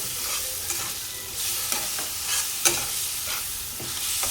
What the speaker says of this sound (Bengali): এবার খুব ভালো করে মশলাটাকে কষিয়ে নেবো পেঁয়াজের সাথে।